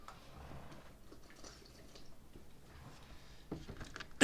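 Water pours into a drink, a soft, continuous trickle close by with faint drips throughout, before a sudden loud bump right at the end.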